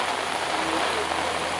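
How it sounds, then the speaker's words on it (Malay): Heavy storm rain with strong wind near a landslide area, a dense, steady roar of downpour hissing across surfaces without a break. "Ini juga angin lagi kencang bos, hati bos. Hujan badai."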